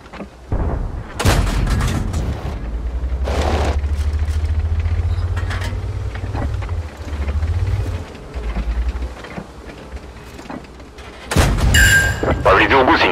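Several heavy booming tank cannon shots from a game, with a low engine rumble between them and a voice speaking over the action.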